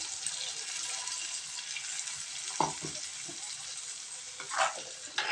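Egg curry masala paste bubbling in a pan on the stove, a quiet, steady hiss and sizzle with a few soft stirring or spluttering bursts, no voices.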